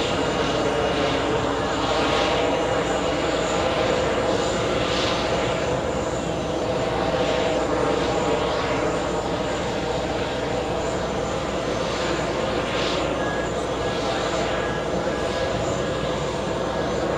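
An Air France jet touches down at JFK, its engines a broad, steady roar with faint whining tones, sustained and moderately distant for the whole stretch, with a voice talking faintly over it.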